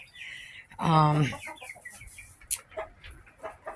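Rooster clucking, with one loud harmonic call near the start, then scattered softer clucks and farmyard noise trailing off.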